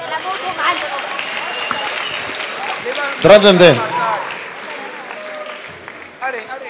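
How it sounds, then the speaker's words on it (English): A church congregation applauds at a service, a dense wash of hands clapping under a preacher's loud voice and crowd shouts. "Let's clap for Jesus."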